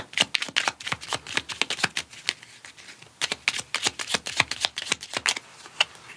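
Oracle cards being shuffled by hand in a tarot-style reading, a rapid, crisp flutter of card edges in quick repeated bursts, close and alone without talking.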